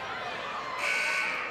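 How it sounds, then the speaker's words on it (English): Buzzer at a girls' high school basketball game, a bright electronic tone that cuts in partway through and holds over crowd chatter in the gym. "Put it up, and the buzzer sounds."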